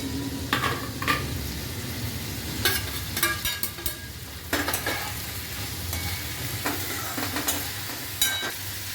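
Broad beans cook in a pan for a poriyal after water is added, giving a soft, steady sizzle and bubbling broken by several clinking, scraping stirs of a utensil against the pan; no talk.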